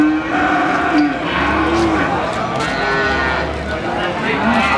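Cattle at a busy livestock market in Pasar Paing Winong, where calves and bulls are sold, give drawn-out moos close by. The calls rise and fall over a constant crowd murmur, with people talking in the background.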